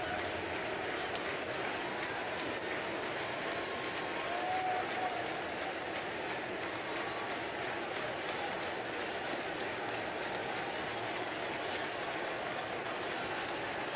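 Crowd at a 2004 Reds-Cardinals baseball game with the bases loaded, a steady, distant murmuring roar that swells slightly midway and keeps up throughout.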